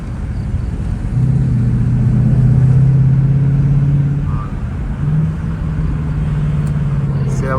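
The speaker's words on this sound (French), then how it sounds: "Il chauffe les pneus là, il chauffe la gomme" A car revs hard with its tyres spinning to heat the rubber. A loud, sustained engine drone rises and holds with a heavy low rumble, briefly dips, then surges again close by.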